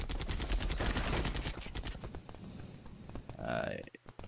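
Pistol shots ring out in the free-to-play shooter EV.IO, a quick run of sharp cracks at the start followed by quieter game sounds and a short tonal effect.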